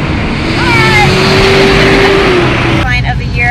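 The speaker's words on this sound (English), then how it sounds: "We're gonna wait for this truck to pass." A truck goes by on a town main street, a loud broad engine roar that swells and fades over a few seconds, with a tonal whine sliding through it and no speech.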